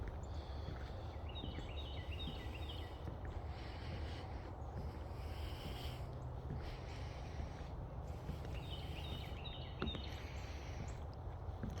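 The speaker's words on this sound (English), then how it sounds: "Hopefully you heard the birds chirping and almost silence out here." Soft, high bird chirps come and go over a steady outdoor hush, with a brief cluster early on and another later.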